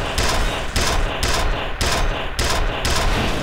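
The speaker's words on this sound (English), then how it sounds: "There's a turret!" Automatic turret gunfire from the first-person shooter F.E.A.R. Extraction Point, loud and close, coming in sustained bursts broken by short regular gaps, with no voices over it.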